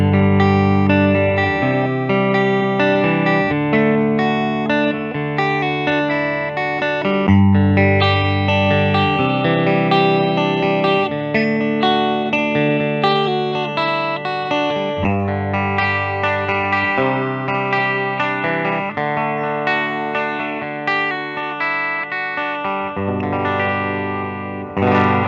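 Distorted, effects-laden tones from a 1991 Gibson Custom Shop Firebird V electric guitar, played loud and continuously with a chorus-like shimmer, bright chords and riffs filling the whole stretch with no talking.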